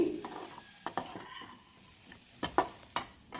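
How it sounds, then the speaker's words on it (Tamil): Masala and vegetables stirred in hot oil in a pan for a radish and greens tamarind kuzhambu, with soft scraping strokes over a faint sizzle and a few sharp spoon-on-pan knocks, close and without talk. "இந்த நம்ம சேர்த்த மசாலா எல்லாம் இந்த எண்ணெயிலேயே காயோட சேர்த்து நல்லா பரட்டி கொடுக்குறோம்"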